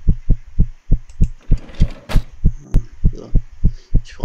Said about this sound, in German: dieser Herzschlag, der macht mich total kirre.